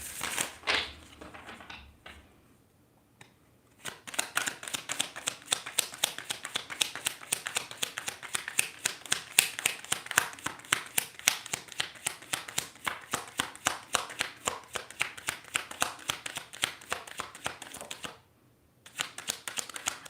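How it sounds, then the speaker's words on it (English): A deck of tarot cards is shuffled rapidly, producing dense runs of crisp riffling clicks and taps in bursts, with a brief pause near the start and another near the end, close and fairly quiet. "last shuffle"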